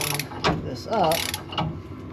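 Ratchet wrench tightening a torsion key adjuster bolt on a 1990 Chevrolet K1500, a few quick metallic ratcheting clicks and clanks in short bursts, close and irregular.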